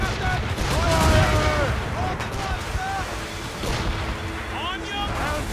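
Warship cannons firing in Assassin's Creed Rogue naval combat, a broadside of booming shots and rumbling blasts under shouted crew orders, with sea and battle noise running throughout.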